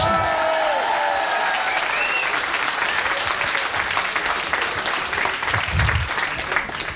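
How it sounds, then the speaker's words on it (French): A large crowd at a geek convention panel applauds loudly and steadily, with scattered voices and cheers mixed into the sustained clapping. "on applaudit le chômage."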